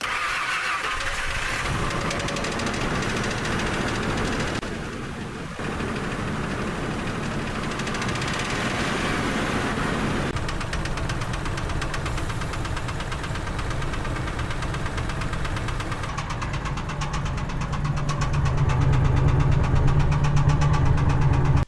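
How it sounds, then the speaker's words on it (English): A car engine treated with Marvel Mystery Oil cranks and catches, then runs with a steady rumbling idle that grows louder near the end, with no voices. "first let's start up the motor with the Marvel Mystery Oil in it"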